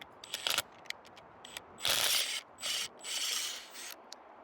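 A freshly drilled maple tap hole in a tree is scraped clean, with short, rough rasping strokes in separate bursts, close and fairly quiet.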